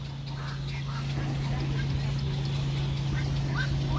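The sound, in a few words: birds calling noisily in a park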